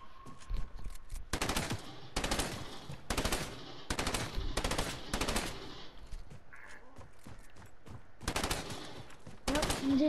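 Automatic gunfire bursts in a prop hunt video game, with repeated loud broadband volleys in rapid rattling strings, separated by brief gaps across the whole stretch.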